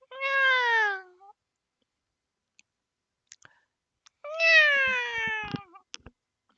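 A person imitating a cat, giving two drawn-out, nasal meows several seconds apart, close and clear, with a few soft clicks in the quiet between them.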